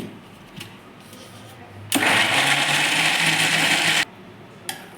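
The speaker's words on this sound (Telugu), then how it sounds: "డైరెక్ట్ అట్లే మిక్సీకి వేయండి" A kitchen mixer grinder coarsely grinds brinjal and tomato chutney, starting abruptly and whirring loud and steady for about two seconds before cutting off, with quiet room noise before and after.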